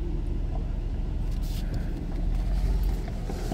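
A car rolls past on a narrow campground road near Low Gap Creek in Helen, Georgia, a steady low engine and tire rumble close by, heard from inside another vehicle waiting to let it pass.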